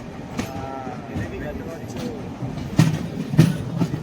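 A train pulling into New Jalpaiguri station, with a steady rolling rumble and rattle of carriages, a few louder clanks toward the end, and muffled voices mixed in.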